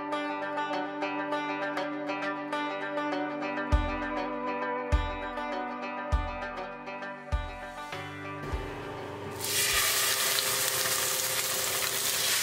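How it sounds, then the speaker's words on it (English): Salmon patties made from wild Alaskan king salmon drop into a hot cast iron skillet, and a loud, steady sizzle bursts in near the end over background music with rhythmic thumps. "then we'll throw these in the cast iron skillet"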